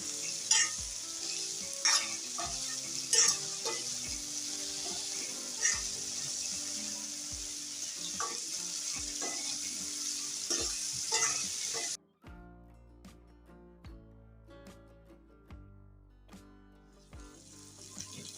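Spiny gourd (kantola) pieces fry in a pan and are stirred continuously, with a steady sizzle and repeated scraping and clinking of the spoon, near and moderately loud; the sizzle drops away sharply partway, leaving quieter scraping.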